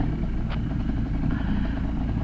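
A Kawasaki Ninja 150 RR two-stroke motorcycle engine drones steadily while riding, a continuous close rumble with road noise and a brief clatter.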